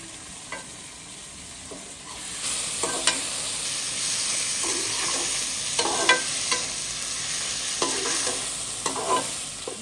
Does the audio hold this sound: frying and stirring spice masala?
yes